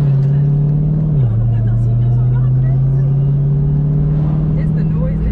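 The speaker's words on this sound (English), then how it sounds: "I don't think the hood ever heard a Hellcat that sound like this" A Dodge Hellcat engine roars loud and steady close by, its pitch dipping briefly before holding a sustained growl, with voices of people talking underneath.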